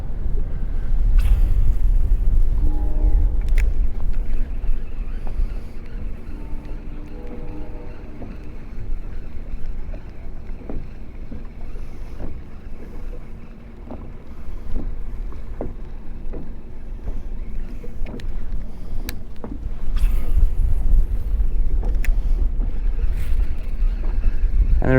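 Steady low engine drone of a motorboat on cold open water, with wind buffeting the microphone and occasional thumps and splashes throughout.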